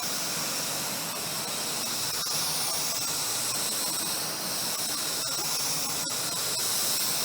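A spray gun hisses steadily as it lays light, even coats of Glasurit 90 line paint onto a panel, a constant close airy spray with faint brief clicks, no talking.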